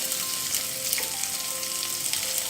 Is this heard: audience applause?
no